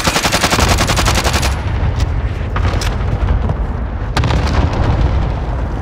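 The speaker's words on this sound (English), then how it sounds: "Cluster strike away." Cluster strike explosions in Call of Duty Modern Warfare start as a rapid, dense string of loud blasts, then give way to rumbling booms and scattered cracks of gunfire that continue to the end.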